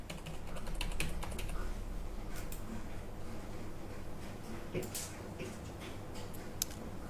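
Fast keystrokes on a computer keyboard while a stock symbol is entered into a trading platform. The clicks come as close, busy bursts over a steady low hum and continue the whole time.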